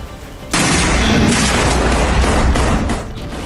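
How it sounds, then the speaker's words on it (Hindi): Explosions in Kyiv during a Russian drone and missile attack: a sudden loud boom bursts in and rolls into a sustained rumbling roar that fades slightly after a few seconds. "राजधानी कीव में 10 से ज्यादा धमाकों की आवाज सुनी गई है"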